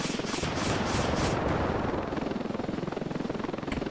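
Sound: helicopter, from the video game Ravenfield

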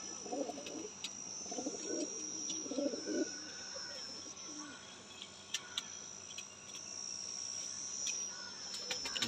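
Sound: Sialkoti pigeons cooing

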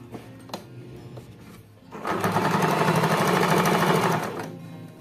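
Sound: sewing machine stitching trouser fabric strips

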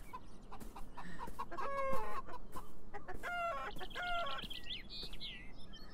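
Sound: chickens clucking in a video game

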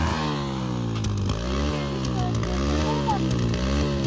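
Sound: modified Hero Splendor motorcycle engine revving

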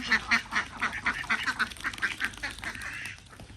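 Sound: ducks quacking

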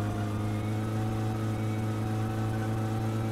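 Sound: car engine struggling in the video game My Summer Car

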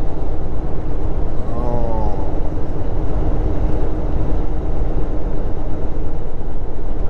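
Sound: freight train passing alongside the road

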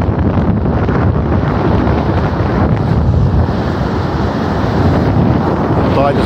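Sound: wind and waves at Milnerton Beach pier

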